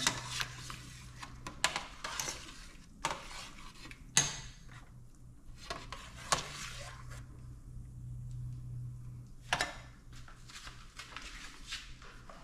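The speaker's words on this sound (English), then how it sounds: "Let's give them a stir." Boiled dumplings being stirred in a pot of water: repeated clinks and scrapes of a utensil against the pot in irregular bursts, with soft sloshing and a low steady hum underneath, fairly close and moderate in level.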